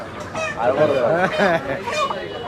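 A large rooster crows and clucks close by at a rural market in Belkuchi, its calls mixed with people talking in the background.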